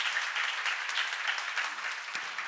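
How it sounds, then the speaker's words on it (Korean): A church congregation at a seminar claps together in a dense, even burst of applause that holds steady throughout, with no voices over it. "박수"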